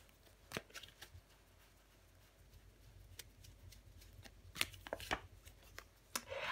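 Tarot cards are shuffled and drawn by hand in a quiet room, soft papery riffles and sharp slaps of cards laid down at irregular intervals, close and faint.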